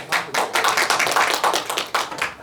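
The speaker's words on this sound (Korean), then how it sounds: "큰 박수로 환영 부탁드립니다." Brisk clapping from a small group at a residents' council assembly welcoming the council president, a quick, close patter of individual hand claps lasting a few seconds.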